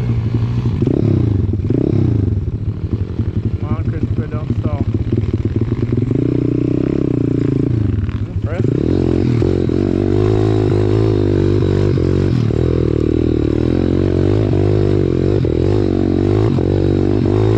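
Pit bike riding a backyard hill climb track: a close, loud single-cylinder engine revving up and down continuously, with throttle blips, gear changes and some clattering along the way.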